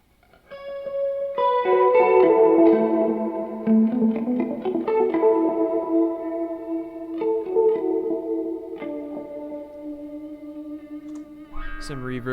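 An electric guitar runs through a studio pedalboard with reverb and modulation effects, and its clean arpeggiated notes ring out into a long, washy, shimmering tail that slowly decays, with a brief scrape near the end.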